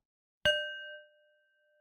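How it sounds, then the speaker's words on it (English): A meditation bell is struck once, a clear bright ding whose tone rings on for about a second and fades into silence. "begin with a bell."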